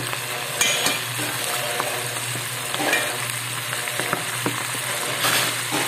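Chicken skin fries in hot oil, a dense crackling sizzle with occasional sharp pops and stirring scrapes, close and steady throughout with no voices.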